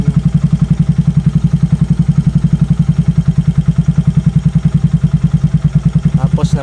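Motorcycle engine with a swapped aftermarket exhaust pipe and freshly set valve clearance, idling steadily and loud up close with an even rapid thump throughout and a brief higher rattle near the end.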